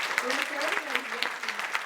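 Audience applause for dancers at an evening performance, a steady wash of clapping with scattered sharp claps throughout, while a voice speaks faintly beneath it.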